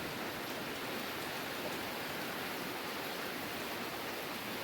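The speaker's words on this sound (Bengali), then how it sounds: "আর বৃষ্টি হচ্ছে তার মধ্যে" Steady, dense hiss of rain falling continuously amid fog in Darjeeling, broadband and even throughout, with no voices.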